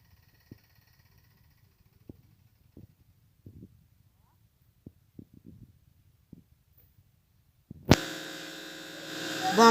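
A sewing machine stitching swimwear fabric for a child's swim bottom stays silent apart from faint ticks, then starts abruptly near the end with a loud, steady, close-up motor whir.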